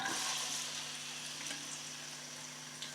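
Two onions frying in a little oil for a village-style capsicum chicken fry, giving a steady, quiet, close sizzling hiss that continues unbroken and alone throughout.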